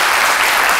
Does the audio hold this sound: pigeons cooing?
no